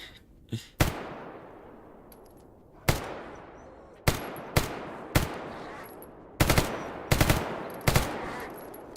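Gunfire from a rifle in the video game GAMMA, with about ten sharp, loud shots fired singly and in quick pairs, each followed by a ringing tail, with short pauses between bursts and no talking.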